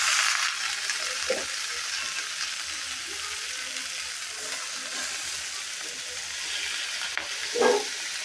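Malabar spinach leaves go into a pan where prawns have been cooked in spices, making a faint steady hiss of frying with a couple of soft stirring knocks, heard at a distance in a village kitchen.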